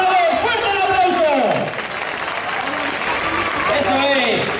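A crowd at a public event in Alagón, Zaragoza, applauds under a loud, excited voice shouting over a speaker system, the clapping a continuous wash beneath the talk.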